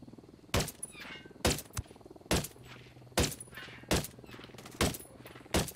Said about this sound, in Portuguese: Estou a falhar os tiros todos, ó Roca